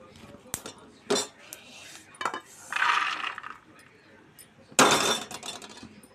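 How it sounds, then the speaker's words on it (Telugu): Roasted peanuts are poured from a pan onto a plate while preparing a healthy laddu, making a few separate rattling, clinking bursts, with a longer scattering rush near the middle and a loud final pour. "వేగినాయి తీసుకొని ఒక ప్లేట్లో పోసుకుందాం"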